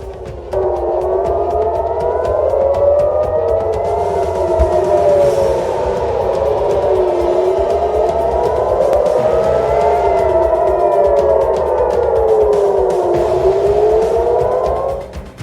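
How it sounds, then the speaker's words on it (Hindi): Wailing air raid sirens rise and fall continuously over Tel Aviv during an Iranian attack, overlapping and echoing across a wide urban space, loud and sustained throughout. "तेल अवीव रात भर सायरन की आवाज से गूंजता रहा"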